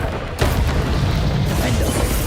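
Booming spell blasts from a Harry Potter video game, a sharp burst near the start followed by sustained rumbling, dense explosive noise that keeps rolling without a break.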